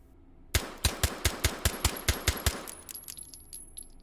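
Suppressed Dardick revolver in H3VR firing ten muffled shots in a quick steady rhythm, each a sharp thump, followed by faint clinks and a high thin ring.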